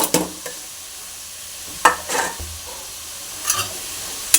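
Cabbage, carrot and onion stirred in a hot pan, with a low sizzle under a few scattered spatula scrapes and clinks, close and fairly quiet, no voices.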